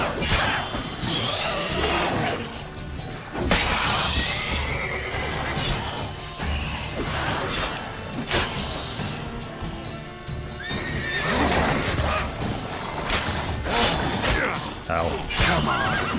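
A horse neighs and whinnies repeatedly over clopping hooves and a busy soundscape in The Witcher 3: Wild Hunt, with scattered crashes and clatter, fairly loud and close.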